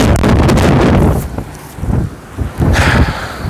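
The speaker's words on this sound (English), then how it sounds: "it just got windy" Wind gusts buffet a microphone outdoors in loud rumbling bursts that drop away briefly, then return, with no clear speech.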